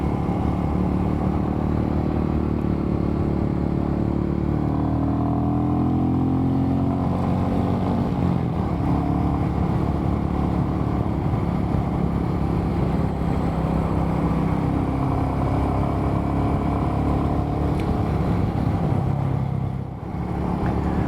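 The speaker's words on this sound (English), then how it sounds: "But yeah, the Royal Enfield 350 Meteor," Royal Enfield 350 Meteor motorcycle riding along the New South Wales south coast, a steady low engine drone with wind rush holding nearly constant for about twenty seconds, briefly dipping near the end.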